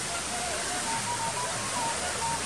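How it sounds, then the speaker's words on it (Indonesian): Steady broadband rush of a river flowing past a riverbank, constant and fairly loud throughout with no breaks, faint bird chirps above it and no talking. "Di pinggir sungai."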